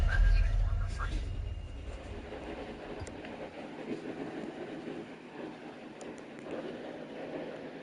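A train in a video game rumbles and clatters slowly and steadily, loudest at the start and then settling to a continuous mid-level rolling noise.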